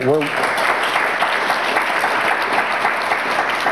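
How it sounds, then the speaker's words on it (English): Studio audience applauding a television guest, a steady wash of clapping right after a brief voice at the start, sustained and fairly loud throughout. "Thank you for that kind applause"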